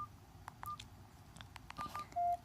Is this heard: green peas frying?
no